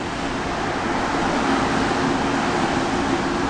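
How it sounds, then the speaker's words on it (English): A steady, broad rumbling roar fills the air, even and continuous, like a subway train passing below through a ventilation grate with wind rushing up, at the Zocalo square in Mexico City. "Must be a train going by. It's a ventilation of the subway system."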